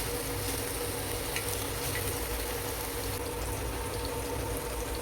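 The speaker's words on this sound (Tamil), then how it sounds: "ஒரு தோசைக்கல்லில் கொஞ்சமாக எண்ணெய் ஊற்றி நம்ம இந்த பன்னீரை போட்டு வறுக்க போகிறோம்." Paneer cubes frying in a little oil on a dosa griddle, giving a steady, even sizzle that hisses continuously and close with no talk over it.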